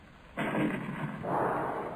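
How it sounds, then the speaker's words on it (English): Distant thunder of a destructo cannon firing in a radio drama, a broad low rumbling boom that swells suddenly and rolls on with a second surge, heard alone without voices. "there sounds again the distant thunder of the destructo cannon"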